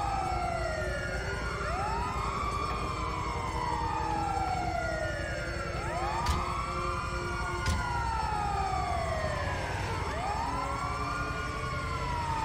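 Emergency siren from an ambulance in Grand Theft Auto V, wailing continuously and loudly with repeated rising-and-falling sweeps, a couple of sharp clicks in between, and no talking.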